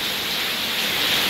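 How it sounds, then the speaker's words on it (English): Heavy rain pours down on a flooded farm in Jamaica, a dense, steady hiss of water with no breaks, fairly loud and close, no voices over it. "Rain's still going."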